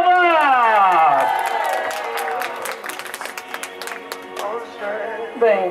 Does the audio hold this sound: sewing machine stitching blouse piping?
no